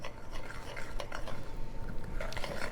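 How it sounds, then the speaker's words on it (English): Butter and brown sugar are stirred together in a bowl, giving a continuous soft scraping and clinking of a utensil against the bowl, close and moderately quiet, with no talking. "go ahead and mix that butter and brown sugar"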